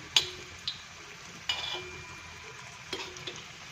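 Alu vadi frying in a pan while being turned over, a soft low sizzle broken by a few sharp clinks and scrapes of the utensil against the pan.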